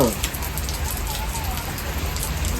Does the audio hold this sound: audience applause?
no